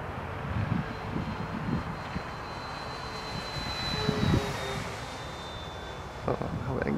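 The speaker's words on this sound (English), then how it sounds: "I kind of listened for the sound of the engine, and it sounds pretty good" An FMS B-25 bomber RC model flies at half throttle, its engine a steady distant drone with a faint high whine that swells and fades, under some outdoor voices and handling noise.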